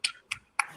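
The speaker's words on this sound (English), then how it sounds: "why are you still clapping?" Three slow, separate hand claps with short pauses between them, quiet and close, from one person during a casual podcast year-in-review chat. Each clap is crisp and brief, with near silence between.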